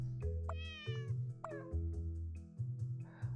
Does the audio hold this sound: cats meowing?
yes